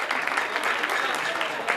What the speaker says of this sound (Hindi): सभी लोग जोरदार तालियों से इनका स्वागत करें।